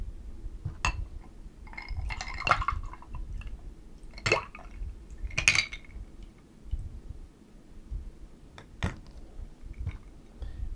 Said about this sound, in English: you want to have ice in your glass